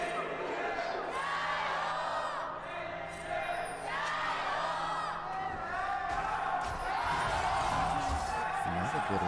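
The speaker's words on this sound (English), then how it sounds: "Crowds begin to cheer." Crowd at an LPL playoff esports match between JDG and AL cheers steadily throughout, a dense wall of voices with whoops rising and falling, while a commentator talks over it.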